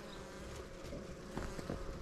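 Honey bees buzz steadily at an open hive while queen cells are set into nucleus boxes, a continuous faint drone close by.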